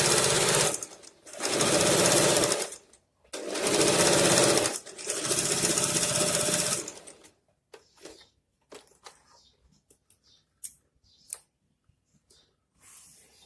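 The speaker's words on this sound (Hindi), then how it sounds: "आप नॉर्मली सीधी सिलाई लगा दीजिए" A sewing machine runs a straight seam along a pants leg in three loud, steady bursts of fast needle chatter, then the work stops and only faint handling clicks and rustles remain.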